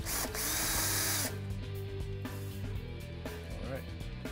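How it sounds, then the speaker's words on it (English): A power drill whirs loudly for about a second while starting holes for stainless steel nerf bars on an E-Z-Go RXV golf cart, then shorter bursts of drilling follow with clicks and handling noise in between. "We're going to take our drill gun"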